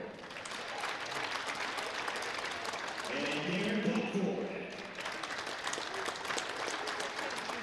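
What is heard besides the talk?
applause for the 1982-84 Capital men's basketball teams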